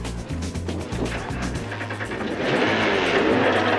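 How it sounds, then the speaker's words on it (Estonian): A car engine starts and runs steadily at close range, a low droning note that swells louder in the last second and a half, with no talking over it. "Oi, auto tööle."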